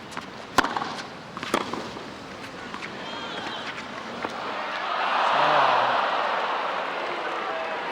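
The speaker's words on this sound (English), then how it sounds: "Crowd booing the player for hitting a drop shot." A large tennis crowd at the 2006 US Open murmurs and then swells into a sustained, distant boo after a drop shot, preceded by a few sharp ball or racket pops and faint commentary over the stadium noise.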